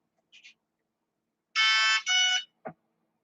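A Maclan MMax Competition Pro 160A ESC beeps during throttle calibration: a quick double chirp, then two long loud electronic tones back to back, and finally a short lower blip, all clean and close.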